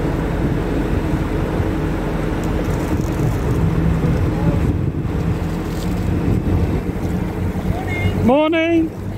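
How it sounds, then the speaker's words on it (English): Wind buffets a moving narrowboat on a canal in Leicester, a loud, steady rushing roar close to the microphone throughout, with a brief rising whistle-like tone near the end. "the wind's getting up"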